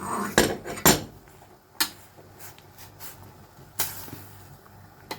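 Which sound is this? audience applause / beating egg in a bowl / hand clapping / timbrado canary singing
beating egg in a bowl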